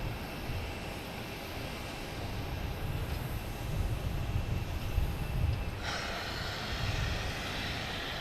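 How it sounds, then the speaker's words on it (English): Iberia Airbus A321neo from Madrid on runway 22 right at Boston Logan, a broad steady jet engine rumble that swells in the middle and holds at a moderate distance, with no voices. "He is Iberia, coming from Madrid, an A321 Neo."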